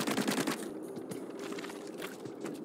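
Ink weapon firing in Splatoon 3, a quick rattling volley of soft shots at the start followed by fainter, scattered squirts and splashes over a game soundtrack.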